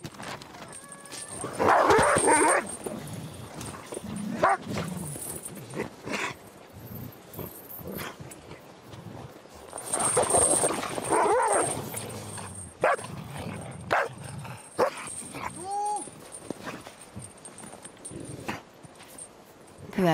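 Sled dogs in the Arctic bark, yip and whine in an excited chorus before being fed, bursts of overlapping barking rising and falling, with some higher whimpers.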